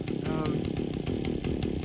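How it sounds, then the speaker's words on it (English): An Echo power tool, likely a chainsaw, runs loud and steady for about two seconds with a rough engine buzz, while a voice talks over it. "So I'm just waiting for my power tool to start up"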